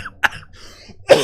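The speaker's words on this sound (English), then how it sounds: "I can't even cough the right way" A single harsh cough, close and loud, preceded by a short throat sound and brief breathy noises.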